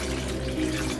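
Homemade drinkable fake blood is poured into a Ziploc bag, giving a brief, soft, continuous liquid splashing and trickling sound, close and quiet.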